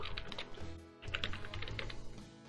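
Quick bursts of computer keyboard typing as a Facebook page link is entered, crisp close key clicks in two rapid runs separated by a brief pause, with no talk.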